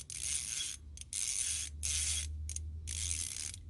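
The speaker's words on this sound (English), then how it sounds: "We'll get us a little offset 1/4 inch ratchet. Sounds like fine teeth, don't it?" An offset 1/4-inch ratchet with fine teeth clicks in four quick, bright bursts of rapid ratcheting separated by short pauses, close up and alone.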